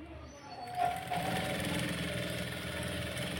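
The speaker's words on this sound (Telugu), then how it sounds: "ఇప్పుడు మనం ఎడ్జ్ కుట్టు వేసేసుకుంటే సరిపోతుంది" A sewing machine runs continuously, sewing the edge seam of a princess-cut blouse with a steady, fast mechanical whirr and rattle that starts up after a brief quiet moment and stays close and even.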